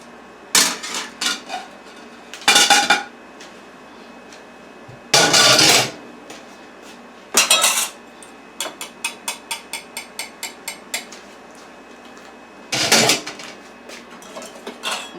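A spoon works cooked apple wood bacon into mashed potatoes in a pot, giving several loud clanking scrapes against the metal followed by a quick run of lighter regular taps, then one more scrape, close and with no talk.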